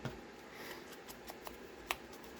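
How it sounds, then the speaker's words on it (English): Paper is distressed by scraping the edge of a pair of scissors along it while decorating a junk journal, giving faint, brief scratchy strokes and a few soft ticks spread out in quiet. "I'm using this edge of my scissors to do the same thing."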